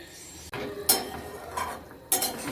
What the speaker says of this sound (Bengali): মিশিয়ে দিচ্ছি ধনে পাতাটা